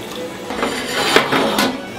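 Beef stock splashing into a pot as a utensil scrapes the browned bits off the bottom, giving a few soft clinks and scrapes against steady background noise.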